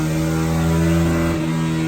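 A DRZ400 supermoto motorcycle revs through its exhaust, a loud, close, steady engine drone that climbs briefly in pitch and then drops back.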